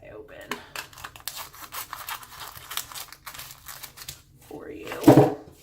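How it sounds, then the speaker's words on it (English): Scissors cut open a plastic-wrapped ephemera pack, with close crinkling, rustling and snipping in short bursts. "I think I'm just going to cut this guy open"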